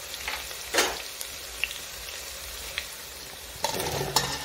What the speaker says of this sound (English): And then I'll bring in the eggplants and carrots.